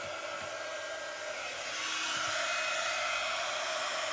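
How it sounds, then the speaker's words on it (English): A heat gun blows a steady airy hiss to warm a gift bag. The hiss swells a little louder partway through and then holds even, with no talking. "we're just going to turn our heat gun on, and that'll be a little bit noisy"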